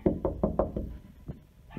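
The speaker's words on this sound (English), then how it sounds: "I know if we knock, he looks." Knuckles rap quickly five times on a door or window to catch a dog's attention, and a couple of softer knocks follow after a short pause, all close and clear.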